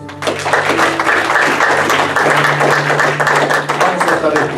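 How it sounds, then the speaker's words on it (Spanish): A church congregation breaks into applause, a dense burst of many hands clapping that carries on steadily, with voices mixed into the noise. "Démosle un aplauso, Señor."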